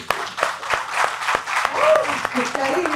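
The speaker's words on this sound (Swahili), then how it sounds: "Jamani, tupigeni makofi." A gathered crowd claps for a football data analyst speaking about Yanga's league standing, an uneven patter of hands with speech continuing over the applause throughout.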